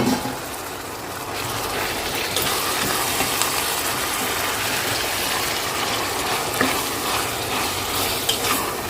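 Soaked mutton hits a pan of onions fried to light brown, setting off a loud, dense, continuous sizzle with occasional stirring scrapes, close-up and unbroken, with no voices.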